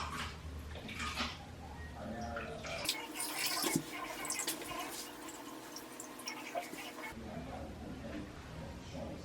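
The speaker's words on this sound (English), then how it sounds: "Gonna dip it in the water." Rag dipped and swished in a basin of water during home hair braiding, soft close splashing and dripping, faint and low, with quiet background noise.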